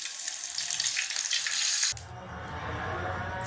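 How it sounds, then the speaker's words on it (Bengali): Eggs dropped into hot oil on a tawa with chili powder give off a bright, steady hiss of sizzling that shifts to a lower, softer crackle partway through. "এবার আমি ডিমগুলো উল্টো দিক করে তেলের মধ্যে দিয়ে দিচ্ছি"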